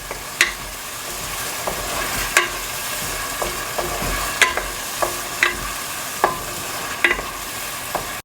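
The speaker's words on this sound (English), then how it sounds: "Just dump it there and stir it until they get mixed and start cooking" Ginger fries in a pan for chicken curry under a constant sizzle, while a utensil stirs it, sounding as sharp scrapes and clicks every second or so.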